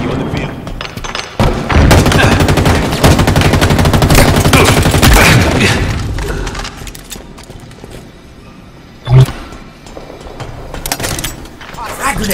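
Halo Infinite battle with rapid bursts of gunfire and booming blasts, loud and dense for several seconds, then a sharp grenade explosion thumps out amid quieter sporadic shots while voices call out under the combat.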